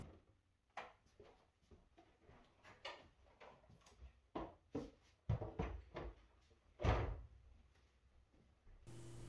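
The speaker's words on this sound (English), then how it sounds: "take the top drawer, push it all the way back, lift it up, and then pull it forward and out" Plastic freezer drawers in a Samsung refrigerator's lower ice-maker section are pushed back, lifted and pulled out. The clip is a busy string of close knocks, clunks and sliding scrapes with a few heavier thumps near the middle, and no speech.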